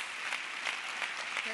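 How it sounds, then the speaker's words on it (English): Faint applause from an audience at a peace lecture, a soft, evenly pulsing patter of clapping heard from a distance. "Maybe our trustees could just stand up so that I can clap them."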